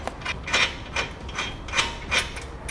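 A wrench tightens a 1/2-inch hex nut with flat and split lock washers onto a base plate bracket on a 2016 Chevrolet, giving five evenly spaced bursts of close ratcheting clicks, no talk.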